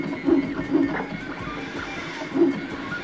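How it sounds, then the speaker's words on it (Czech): MakerBot Replicator+ 3D printer printing at close range, its stepper motors giving a busy, fairly loud whirring buzz with several pulsing bursts over a few seconds, no speech. "Samotný tisk už je naštěstí svižný a také velmi hlučný."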